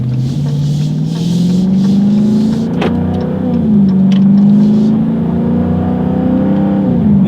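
A 2016 Dodge Charger R/T Scat Pack V8 accelerates under load, a loud, deep engine note climbing steadily in pitch, easing briefly at a gear change, then pulling up again, close and dominant with no talk.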